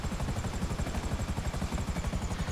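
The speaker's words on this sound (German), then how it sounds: "wo ich den Heli aufsetzen kann" A helicopter in GTA V hovers and sets down, its rotor producing a loud, steady rhythmic thumping with a constant whine of the engine, unbroken throughout.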